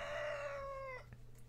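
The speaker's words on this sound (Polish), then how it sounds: "Kogut tam napierdziela mocno fest." A rooster crows in the farming video game Professional Farmer: Cattle and Crops. A single drawn-out crow falls in pitch and fades within about a second; it is faint and plays alone over a low, steady hum.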